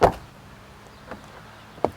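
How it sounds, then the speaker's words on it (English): On a GMC Sierra AT4 pickup, a door unlatches with a button press: a sharp mechanical clunk at the start, then two fainter clicks and a thud in quiet surroundings. "So let's see, press the button, opens the door"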